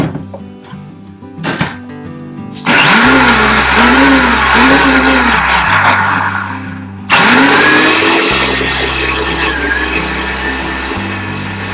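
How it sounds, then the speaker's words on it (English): Countertop blender whirring loudly through a coconut butter and cashew butter mixture, starting after a brief clatter, running steadily, pausing once, then restarting at full strength. "We're going to blend our mixture together."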